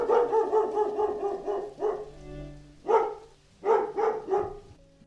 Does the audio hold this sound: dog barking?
yes